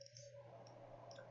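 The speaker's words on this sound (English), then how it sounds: "So again, I'm just double clicking," A computer mouse clicks quietly during 3D modeling work in Maya, a few faint, sharp clicks spaced out over a low hum, with a crisp click closing the moment.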